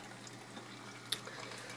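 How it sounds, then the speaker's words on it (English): Espresso flowing from a Bellman CX-25 stovetop maker into a pot, a faint steady liquid trickle and hiss with one brief sharp spurt near the end. "open your valve, and you can see it will push nice espresso on out and filling it up"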